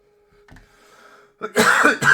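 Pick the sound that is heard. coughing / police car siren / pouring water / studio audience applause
coughing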